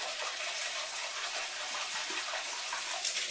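Hot tap water runs in a steady, full gush into cartons being rinsed for culturing yogurt, a close, continuous splashing hiss with no speech.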